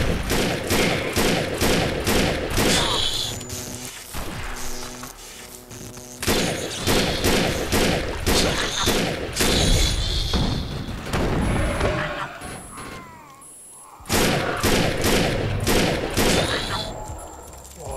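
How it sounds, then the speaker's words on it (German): Continuous automatic gunfire from the video game Defiance rattles loudly in rapid bursts, with a short pause midway and a brief drop near the end before it resumes. "Auf was schießt du denn die ganze Zeit?"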